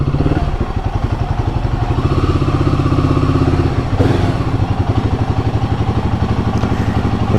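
A Royal Enfield Guerrilla 450 motorcycle engine idling up close, a loud steady thumping single-cylinder beat with mechanical clatter and a slight blip partway through.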